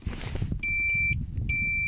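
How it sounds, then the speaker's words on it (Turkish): Alarm on an RKS Freccia 150 maxi scooter gives two close, loud electronic beeps, each about half a second long with a short gap between, over a low background rumble. "bakın alarm verdi hemen"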